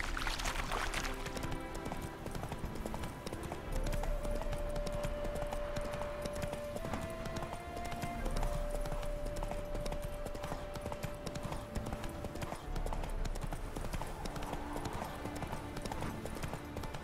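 Roach the horse gallops in The Witcher 3, a continuous rhythmic clip-clop of hooves at moderate distance with a faint tonal hum running beneath and occasional brief voices.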